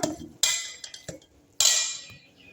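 Gravy is stirred in a pot with a metal utensil, giving a few sharp clanks and scrapes against the pot, two of them louder, separated by brief quiet gaps.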